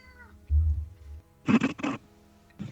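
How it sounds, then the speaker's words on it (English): A cat meows aboard a submarine in a video game, with a low rumble first and then a cluster of two or three loud, close meows followed by one shorter cry at the end. "Who was irresponsible and brought a cat on the submarine?"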